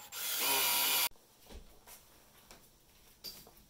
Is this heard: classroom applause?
no